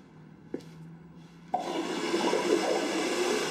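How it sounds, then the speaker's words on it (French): A toilet flushing in a bathroom under plumbing inspection, a brief clunk of the handle followed by a loud, steady rush of water that fills the rest of the moment, close by with no talk. "Allons voir la chasse d'eau."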